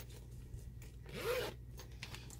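A zipper on a crochet kit bag is pulled in one short rasping stroke, close and fairly quiet against faint background hum, with a few soft rubbing handling sounds around it.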